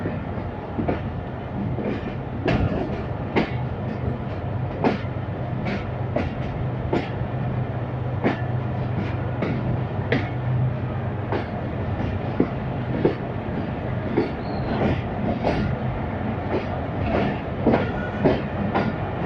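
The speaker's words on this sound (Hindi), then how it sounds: "झालार रेलवे स्टेशन पर रुकी थी और अब दोबारा चल पड़ी है।" A passenger train on the ML2 route pulls away from Jhalar station, its wheels beating a steady clickety-clack over rail joints, with a low continuous rumble throughout and no voices.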